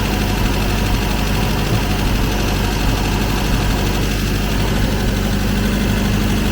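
An MGB engine idles a little high while warming up after restoration work, a steady close rumble with no change in pace throughout.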